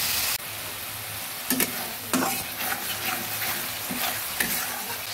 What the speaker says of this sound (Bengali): পেঁয়াজটা ভাজা হতে দিচ্ছি।